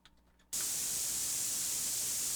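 Pink noise from the output of a DIY synth oscillator switches on abruptly after a brief quiet moment and holds as a loud, steady, broadband hiss to the end.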